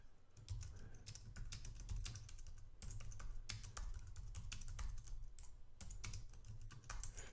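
Keys clatter in quick, irregular bursts as text is typed on a computer keyboard in the Vim editor in a Linux terminal. The sound is close but quiet, with brief pauses between runs and no talking.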